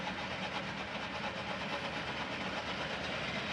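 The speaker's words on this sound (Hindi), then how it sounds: "ये अभी धीरे धीरे टेबल का फीड ट्रैवल चल गया है वार्म कटिंग के लिए" A Donini A29 gear hobbing machine runs with its table feed travelling while cutting a worm gear, giving a steady, dense mechanical hum and clatter that holds at an even level throughout.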